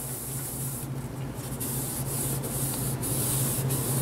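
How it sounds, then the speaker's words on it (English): A green 3M scrub pad scrubs the exterior surfaces of a car with steady, continuous rubbing, close and even, with a low hum underneath and no talking. "I'm going to go in with my green 3M scrub pad and try to loosen some of the debris on all of the exterior surfaces"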